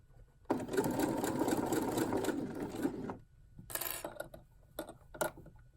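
A sewing machine stitches knit binding onto a tank top, running in one steady whirring burst of about three seconds, then a pause and a few short stitches and clicks, close and moderately loud with no talk.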